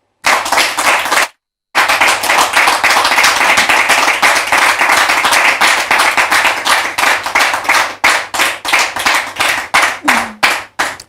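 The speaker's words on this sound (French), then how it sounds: "Merci de les recevoir sous vos applaudissements" A church congregation claps loudly to welcome a brother and a pastor, dense close applause that stops for a moment, resumes, then thins into scattered separate claps toward the end.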